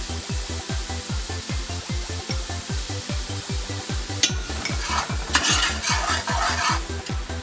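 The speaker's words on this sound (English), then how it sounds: "Gonna drop in our garlic." Onion and garlic frying in oil in a pan for spaghetti and meatballs, a steady close sizzle under a regular beat of stirring strokes, with a brighter burst of crackle as more garlic drops in partway through.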